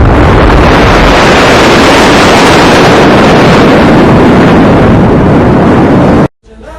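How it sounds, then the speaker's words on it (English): Rafale fighter jets of the Indian Air Force roar overhead at the Republic Day parade in New Delhi, a huge broadband blast with wind-buffeted rumble, very loud and close for about six seconds before cutting off sharply. "6 Rafale, omnipotent fighter aircraft of the Indian Air Force"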